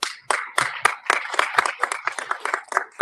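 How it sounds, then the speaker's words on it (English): Sharp, close handclaps ring out in a loose, uneven rhythm of roughly a dozen strikes, a small audience clapping alone with no talk over it. "Don't clap for him. Don't even clap for him."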